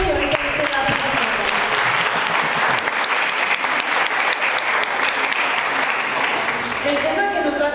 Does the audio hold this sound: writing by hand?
no